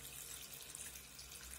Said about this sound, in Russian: Воды я наливаю побольше,